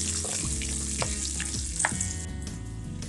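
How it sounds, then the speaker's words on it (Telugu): Cashews and peanuts fry in hot tempering oil for raw mango rice, giving a loud, continuous close sizzle with a few stirring scrapes in the pan and no talk. "జీడిపప్పులు, పల్లీలు అన్నీ వేగేదాకా వేయించుకోండి 1-2 నిమిషాల పాటు."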